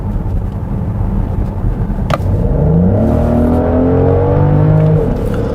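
A Genesis GV70 3.5 twin-turbo AWD in sport mode gives a steady, loud engine drone inside the cabin, then revs up in a rising, tonal climb that holds strong near the end; no one speaks.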